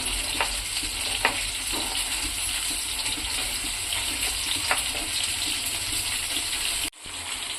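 Tomatoes frying in a pan while making brinjal roti pachadi, a continuous hiss and sizzle of oil with occasional stirring clicks, close and steady, cut off briefly near the end before resuming.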